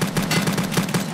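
Gunfire in the video game Escape From Tarkov, with several quick shots in a steady rhythm filling the short clip, loud and close, with no talk over it.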